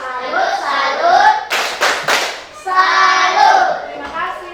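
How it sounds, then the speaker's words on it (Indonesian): A group of children at a Christian school lesson performs a chanted clapping routine, voices chanting in unison, then a quick series of sharp, loud claps in the middle before the chant resumes, close and lively. "Tepuk salut"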